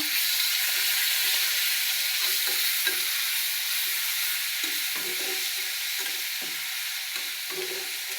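Onion paste fries in a hot pan with a loud, continuous hiss and sizzle, and a spoon stirs it in brief scraping strokes, close and steady with no talking.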